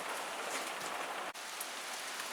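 Steady rain falls outdoors in a continuous even hiss, a dense patter of drops on surfaces with no voices, broken only by one brief dip in the noise.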